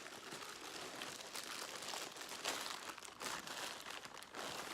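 Close, quiet crinkling and rustling of a plastic bag being handled, irregular crackles continuing throughout with no talking.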